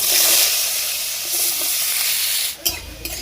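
Potatoes fry in hot oil with a loud, dense sizzle that runs continuously, then a clatter of stirring near the end.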